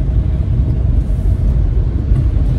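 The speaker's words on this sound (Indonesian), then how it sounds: "Sekarang suara mesinnya halus banget" A car engine hums smoothly while driving, a steady low rumble heard from inside the vehicle, constant and fairly loud with no other sounds.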